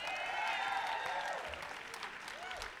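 An audience applauds for Tacoma Musical Playhouse at an awards ceremony, a steady burst of clapping that swells briefly and then tapers off.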